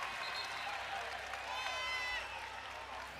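A volleyball crowd at an NCAA college match between Long Beach State and Hawaii cheers and applauds on its feet in a loud, sustained roar, with a commentator talking over it.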